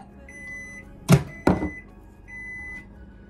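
A microwave oven melting chocolate gives a steady low hum, broken in the middle by two short, loud bursts close together, with no talking.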